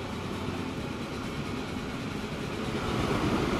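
Big Boy 4-8-8-4 steam locomotive hauling an oil train in the Transport Fever video game, a steady, dense rumble of running rail noise that swells slightly louder toward the end, with no voices.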